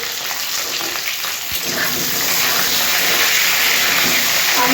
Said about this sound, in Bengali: আলু কচুটা ভাজা ভাজা হয়ে গেছে।